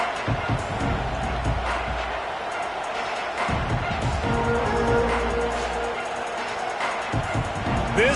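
A packed football stadium crowd roars steadily at a night game, a dense wash of cheering and yelling that swells and holds throughout, with faint bursts of commentary-like voices mixed under the noise.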